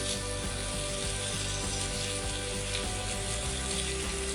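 Food browns on a hot griddle as part of a low country boil, with a steady, dense, close sizzle and fry running the whole time and faint stirring or scraping clicks beneath it.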